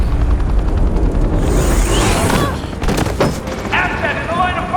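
Gunfire erupts in a police shootout in the Batman Telltale Series video game: rapid shots and booms mixed with sweeping whooshes and effects, with voices talking over the action.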